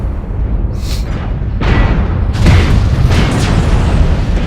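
Heavy weapon impacts from a Gauss Rifle on a Dragon 5C mech in MechWarrior, a series of loud booming blasts with rumbling low end, several bursts stacked close together.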